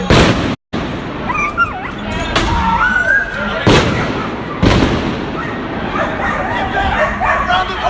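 Pepper spray bombs go off at a downtown Portland street protest, several sharp, loud bangs spaced a second or so apart, each with a brief echoing tail, among shouting voices and crowd noise.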